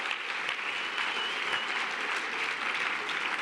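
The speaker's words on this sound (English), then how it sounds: "Can we just give them a big round of applause?" A large theatre audience applauds continuously, a thick, even wash of clapping from many hands, steady and moderately loud throughout with no voices standing out.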